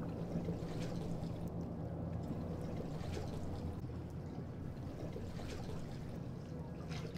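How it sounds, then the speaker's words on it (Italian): Steady rushing water fills the scene with a continuous, even wash of sound at moderate loudness, without pause and with no voices. "Sempre comunque accompagnati dal rumore dell'acqua"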